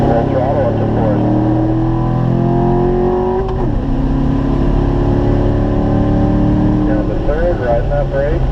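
Corvette engine at full throttle on the Spring Mountain race track, a loud, steady close-up roar with harmonics climbing as it winds up through the gears, one brief dip around a shift, with a voice talking over it throughout.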